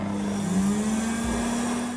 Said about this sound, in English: The bright, clean bathrooms each have exactly one weak-ass hand dryer.